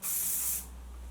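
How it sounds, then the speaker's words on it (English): Hairspray hisses from an aerosol can onto hair in one loud, close, steady burst of about half a second, then cuts off into quiet room tone. "I'm going to take my hairspray and just spray it this"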